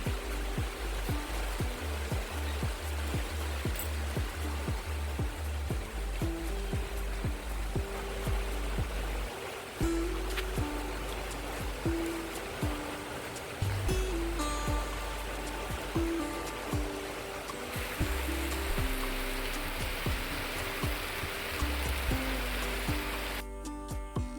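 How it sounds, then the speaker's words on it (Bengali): Heavy monsoon-style downpour drums steadily and loudly on surfaces, a dense unbroken roar of rain running from start to finish with no voices. "বৃষ্টি চলে এলো মুসলধারে বৃষ্টি পড়ছে"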